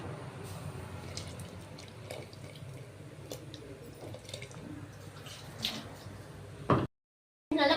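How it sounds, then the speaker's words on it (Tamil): A pot of homemade sardine kulambu with ground coconut simmers on the stove with a faint, continuous bubbling and crackling boil. It ends with a short clatter, then a moment of silence. "நல்லா கொதி வருது பாருங்க."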